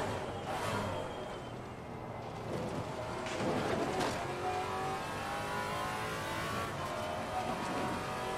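Maserati MC GT4 race car engine in Assetto Corsa Competizione, revving and rising through gears, with another car audible nearby on track, a continuous fairly quiet racing roar.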